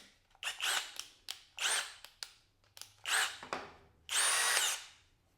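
A Skil 12V PWRCore compact brushed non-hammer cordless drill whirs in about five short, loud bursts with pauses between them. The last run is the longest and steadiest.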